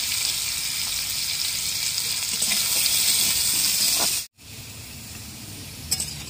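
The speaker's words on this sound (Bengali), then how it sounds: "এবার দিয়ে দেবো কেটে রাখা আলু। আলুগুলো কিছু সময় ভেজে নেব।" Diced potatoes with salt fry in a pan, a steady close sizzle with stirring scrapes, briefly cut out before the sizzling resumes a little quieter.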